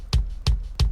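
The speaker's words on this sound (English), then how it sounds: "this is the sound of kick without any processing" An unprocessed kick drum stem from a song mix plays alone, three dry, booming hits evenly spaced about a third of a second apart, each with a sharp attack and short low decay.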